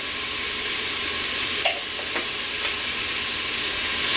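Onions and herbs sizzling in a soup pot for chicken soup, a steady bright frying hiss close by, broken by a few soft knocks and stirring clicks, with no talk.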